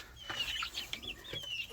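Young chicks in a cheap homestead chicken coop make short clucks and high peeps close by, with several overlapping calls across a brief moment.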